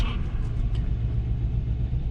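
A car engine revs at about 2,000 RPM with its MAF sensor unplugged, giving a steady, close, rough rumble with an uneven misfiring note and no one speaking.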